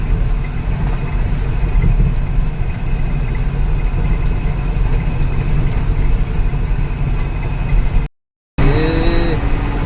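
A steady car engine hum drones continuously inside the moving car, loud and even, briefly cutting out near the end.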